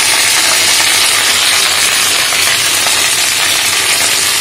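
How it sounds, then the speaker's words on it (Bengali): Chopped bottle gourd greens are stirred into lightly fried potatoes in a pan, giving a loud, dense, unbroken sizzle and rustle up close, with no voices. "এবার এই ভাজা আলুর মধ্যে আমি মিশিয়ে দিচ্ছি আগে থেকে কেটে ধুয়ে পরিষ্কার করে রাখা লাউ শাক।"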